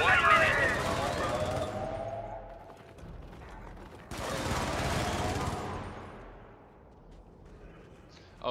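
Automatic turret gunfire in the video game Helldivers, two long bursts of rapid rattling shots with a mechanical whir, the second starting abruptly after a brief lull.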